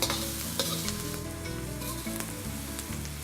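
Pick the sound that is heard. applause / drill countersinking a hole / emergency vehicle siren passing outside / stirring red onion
stirring red onion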